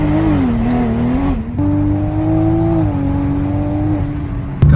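Close to the exhaust of a 500 bhp Toyota Supra with its valve held open, a loud droning rumble rises and dips in pitch for nearly five seconds, with a short drop and a sharp burst at the end.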